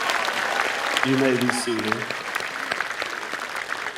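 A crowd at a high school commencement claps steadily in a dense, even patter, with a voice speaking briefly over the applause partway through.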